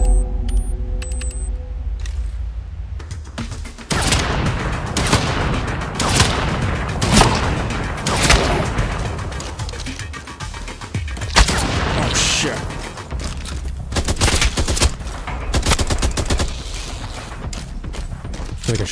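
Shotgun blasts in the survival shooter EXOME ring out as repeated loud, heavy bursts at irregular intervals amid mechanical game sounds, with occasional speech.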